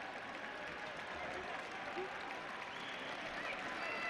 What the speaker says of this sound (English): And a heartfelt round of applause.